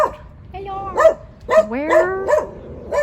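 A dog barking in a few close, loud yelping woofs with whiny pitch slides between them, irregularly spaced across a few seconds.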